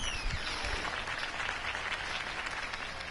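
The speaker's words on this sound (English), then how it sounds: "could have heard that applause" Steady applause from a crowd in the video game Batman: The Telltale Series fills the scene, a dense wash of clapping that stays even throughout with no voices standing out.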